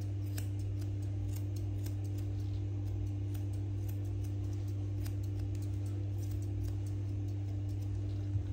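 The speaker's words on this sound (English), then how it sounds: "using the Artero Fusion Curvy Shears. I'm going to trim off anything that falls down below the pads." Close-up snips of Artero Fusion Curvy Shears trimming the hair under a doodle-type dog's foot pads, faint scattered clicks over a steady low hum, with no talking.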